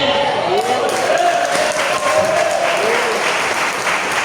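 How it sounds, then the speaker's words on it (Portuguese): A church congregation at a family service applauds for someone, a dense, steady wash of clapping that runs loud through the whole stretch, with a voice talking over it. "dá uma salva de palmas para ele"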